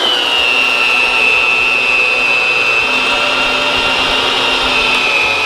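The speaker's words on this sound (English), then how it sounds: "I'm gonna drill all the holes through all the boards, which is 56 total." Power drill boring holes through wooden boards for a homemade power rack, a loud, continuous whirring whine that slowly drops in pitch as the bit works through the wood.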